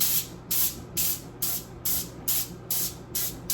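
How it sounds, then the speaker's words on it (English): Cooking spray spritzed onto oven racks in a kitchen, eight short even bursts of aerosol hiss in a steady rhythm, close and clear with no talking. "it's easier cleanup because you just spray the racks real good"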